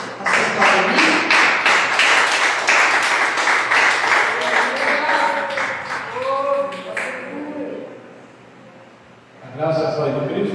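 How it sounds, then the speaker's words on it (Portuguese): A church congregation applauds during a worship service, brisk clapping from many hands for several seconds that thins out, with a preacher's voice speaking over it and returning afterward. "Você pode aplaudir ao Senhor?"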